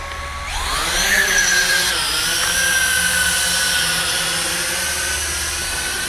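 Small FQ777 FQ02W foldable FPV quadcopter spinning up for an automatic takeoff, its propellers rising from a low whir into a steady, close, high-pitched buzzing whine that holds loud and continuous throughout.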